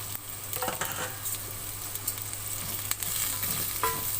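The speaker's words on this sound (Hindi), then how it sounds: "अब इस प्याज को मैं लाइट ब्राउन कर लूंगी" Four large onions cut into long slices fry and sizzle steadily in a pan, with occasional scrapes and clinks of stirring over a constant crackle, no voices.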